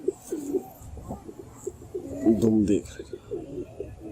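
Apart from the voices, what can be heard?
pigeon cooing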